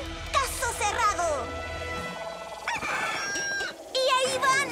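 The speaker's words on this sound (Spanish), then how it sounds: "Estamos persiguiendo gallinas." Cartoon chickens cluck and a rooster crows in a busy animated scene, layered over music and voices with the squawks coming in repeated bursts.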